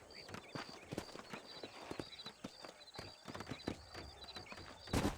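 Horses trotting across open country in the video game Red Dead Redemption, quick overlapping clip-clop hoofbeats at a steady gallop with a brief whinny, moderately close and quiet.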